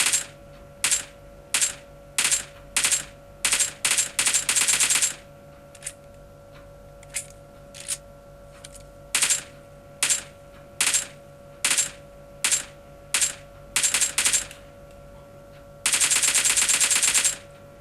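Rapid gunfire from a mobile shooter game heard through Plextone 4 Game wireless earbuds, loud close bursts in quick regular volleys with short pauses and a few long sustained strings of automatic fire.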